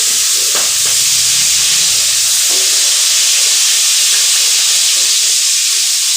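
Onion, split green chilli, chopped tomato and black cumin fry in oil in a pan, producing a loud, steady hiss and sizzle with a few soft stirring knocks early on.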